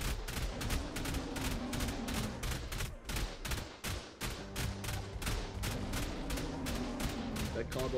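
A row of automated turrets in the survival game Ark fires rapid, evenly spaced shots, a dense crackling volley that keeps up for the whole stretch, loud and close over low rumbling battle noise.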